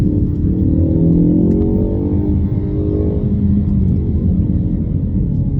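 Ford Focus on Pilot Sport 4S tyres accelerating hard uphill on a winding UK road at dawn, a loud, steady in-cabin engine roar with rising harmonic tones across the clip, no talk.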